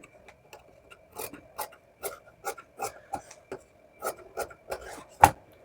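Scissors cut cloth for a baby cap in a series of soft, crisp snips, each a short rasping crunch repeating at an uneven rhythm, quiet and close, ending on one sharper snip.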